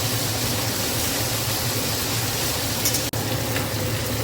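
Bay leaf, chopped onion and garlic paste fry in hot oil in a pan, giving a steady, fairly loud broadband sizzle that runs unbroken and close, with a brief clatter near the end and no voices.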